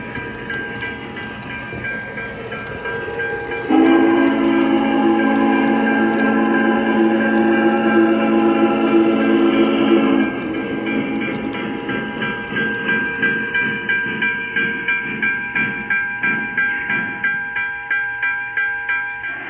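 A Big Boy model train sounds a steady whistle lasting several seconds indoors, then runs on with rhythmic clicking wheels over the track at close range.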